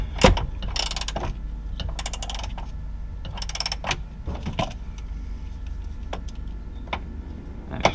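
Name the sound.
ratchet loosening 13 mm nut on BMW E46 sway bar bracket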